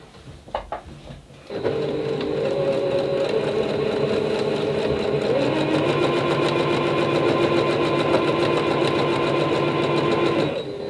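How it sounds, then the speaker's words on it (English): A sewing machine runs steadily and loudly while stitching down the side of a quilt, a continuous whirring drone with a quiet start before the motor kicks in. "So we're going to stitch down this side."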